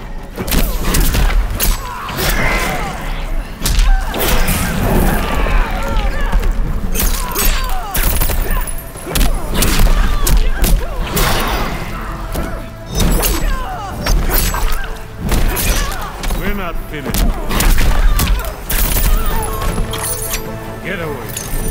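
Dense, chaotic fight impacts from the Mortal Kombat 11 video game, with thuds, booms and clashing hits nearly constant and loud, mixed with game voices and effects throughout.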